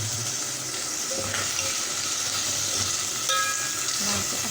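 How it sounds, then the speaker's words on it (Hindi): A spoon stirs pizza sandwich filling in a bowl, mixing in paprika powder, spices and chili sauce. The close, continuous scraping and squelching comes in soft, uneven strokes, with no talking. "अच्छे से इसे मिक्स कर लेंगे।"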